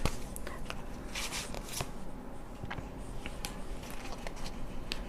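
Tarot cards shuffled by hand for a clarifier draw, a continuous soft papery riffling and slapping with crisp flicks scattered throughout, close and fairly quiet, with no talking.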